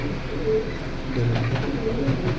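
Pigeons in a breeder's loft cooing in low, soft murmurs, a faint pair of calls building into a steadier cooing toward the end over quiet room noise.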